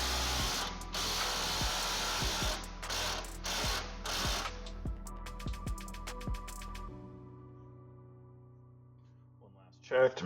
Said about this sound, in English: We'll let the tension off the spring compressor.